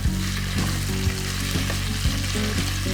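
Potatoes frying in a pan with mushrooms, a loud continuous sizzle punctuated by regular scraping stirs about every half second to second, close up and without talk.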